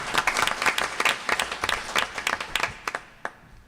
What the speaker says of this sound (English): Let's give our Eastern Shore delegation another round of applause